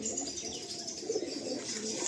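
Kashmiri pigeons in a loft in Garia, Kolkata, cooing and chirping steadily at moderate volume, with soft flutters and overlapping bird calls throughout and no speech.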